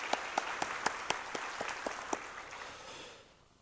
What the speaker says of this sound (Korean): 감사 영광의 박수 드립니다